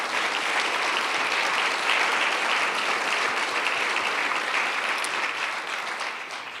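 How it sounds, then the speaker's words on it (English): An audience claps steadily at a university excellence awards ceremony, a sustained dense round of applause that tapers off slightly toward the end. "Can we give them a round of applause,"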